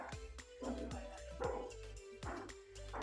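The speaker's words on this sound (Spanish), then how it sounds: "Está peleando con el perro, Manuel" A dog barking, a run of sharp, close yips and woofs in quick succession with some whimpering between them and nothing else underneath.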